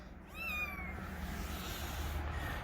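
A kitten among a litter gives one clear, drawn-out meow near the start, followed by a faint second cry later, close by over a steady low background rumble.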